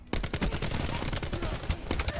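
Rapid automatic gunfire from a Black Ops 4 multiplayer match, dense bursts of shots cracking one after another for two seconds, loud and continuous.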